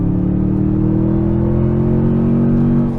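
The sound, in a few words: Toyota Tundra TRD Pro pickup accelerating hard from launch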